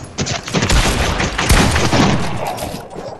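Rapid volleys of video-game gunshots, loud and dense, cracking and booming in a continuous barrage with no talking.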